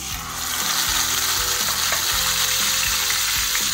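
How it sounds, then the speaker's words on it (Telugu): Onion paste frying in oil in a pan for a pomfret fish curry, a loud dense close sizzle that holds steady, with a faint mechanical hum underneath. "ఉల్లిపాయ ముద్ద వేసుకుందాం."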